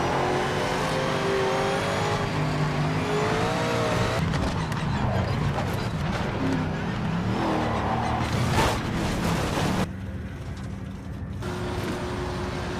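Ford Mustang GT3 race car engine in the Project Motor Racing game, a loud continuous roar with shifting revs and mechanical whine throughout, dropping to a lower, quieter drone near the end.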